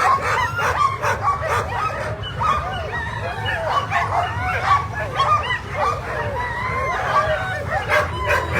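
Many sled dogs bark, yip and whine excitedly all at once at a race start, a dense, constant chorus of eager barking from a large pack.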